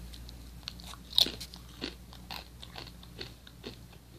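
Crunchy lime-flavoured snack chips that look like banana chips, bitten with a sharp crisp snap and then chewed in a steady run of close, dry crunches, with no talking.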